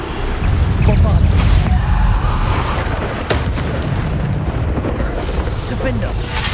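Bombarda explosion spell going off in Hogwarts Legacy, a loud booming blast with rumbling low end and crackling debris that sustains for several seconds, a sharp extra pop near the middle.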